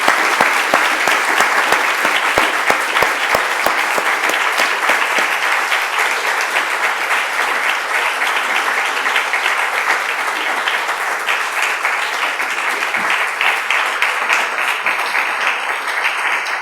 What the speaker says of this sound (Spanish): por favor regalarles un caluroso y sentido aplauso